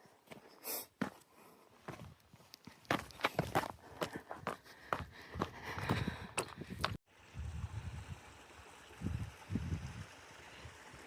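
Footsteps crunch and scuff along a rocky trail toward Lake Helen in the Eastern Sierra's Hoover Wilderness, close and irregular, first quick and busy, then softer, slower steps after a brief cut.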